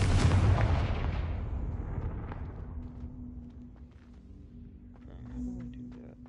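A heavy blast from the Confringo fire spell in the Hogwarts Legacy video game opens with a loud boom and slowly rumbles away over several seconds, followed by a faint low hum and no talking.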